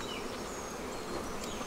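A dense, steady buzz of many honey bees crowding the outside of a hive in a bee yard, a continuous hum with no breaks or voices.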